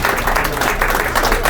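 Steady crowd applause at a Women in Web3 gala, a dense wash of many hands clapping at once, fairly loud and continuous throughout.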